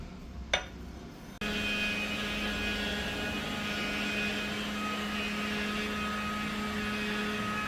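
An electric mixer grinder blends rose apple fruit with a squeeze of half a lemon into juice, a steady loud motor whir with a tonal hum that starts abruptly after a brief clatter and runs unbroken to the end.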